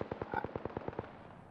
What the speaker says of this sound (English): I can't tell where those shots are coming from, though.